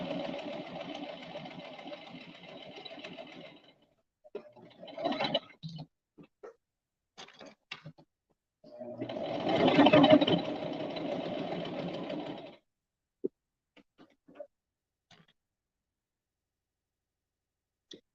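Brother 1034DX serger stitching hat and scrunchie fabric, running in a long steady burst, a short stuttering run and a second loud burst, separated by quiet pauses and a few small clicks.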